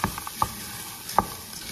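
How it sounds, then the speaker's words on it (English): Frozen cauliflower rice fries in oil and butter while a spoon stirs it around the pan, giving a low sizzle broken by a few sharp scrapes and clinks, close up. "Give it a good stir."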